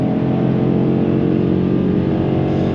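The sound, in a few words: Dodge Challenger RT muscle car engine revving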